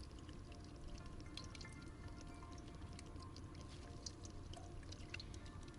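Technical water poured outdoors at a Lake Baikal campsite, a faint, steady trickling and splashing stream with small droplet sounds, no voices.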